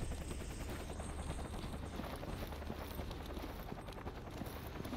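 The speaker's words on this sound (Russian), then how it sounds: "Здорово, мистер вертолет." A helicopter flies in the Stalker Anomaly shooter game, its rotor producing a dense, continuous thumping rumble at steady volume for the whole stretch.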